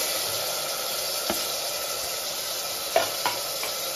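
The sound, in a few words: tomatoes added to a pan, sizzling while stirred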